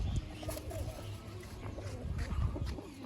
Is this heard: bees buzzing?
no